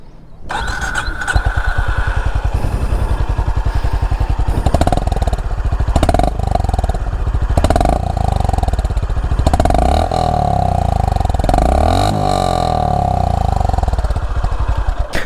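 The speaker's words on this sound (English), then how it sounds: "So let's listen to the exhaust note once." A Honda H'ness CB350 motorcycle cranks and fires up, then its exhaust settles into a steady thumping idle, with several throttle blips rising and falling close by.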